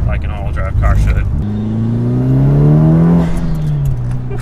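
A Mitsubishi Evo 8 accelerates hard, its turbocharged engine note climbing in a rising whine for a couple of seconds before easing off. The sound is loud and close, heard from inside the car.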